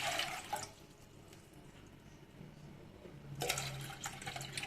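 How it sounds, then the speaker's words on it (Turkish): One and a half litres of water splashes and pours into a pot, fairly faint, with a stronger gush at the start and again near the end. "Bir buçuk litre suyumuzu tenceremize ilave ettik."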